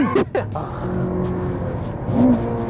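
A Honda Civic FN2 Type R on a race track, its engine droning steadily inside the cabin as a gear change is missed, with a short rev flare near the end and people talking over it.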